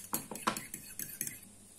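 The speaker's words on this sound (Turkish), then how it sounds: "Yumurtamın beyazını şöyle bir çatal yardımıyla veya siz mikserle şöyle birbirinden kopsun diye şöyle hızlı hızlı" A fork whisks egg white quickly in a bowl, giving a rapid, close series of light metallic clinks and scrapes, about ten strokes in under two seconds.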